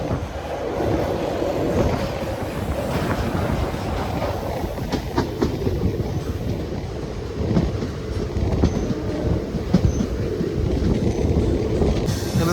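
Kollam–Thiruvananthapuram passenger train crossing Veli lake near Thiruvananthapuram North, heard from on board as a steady loud rumble with rhythmic wheel clatter and occasional squeals, no voices.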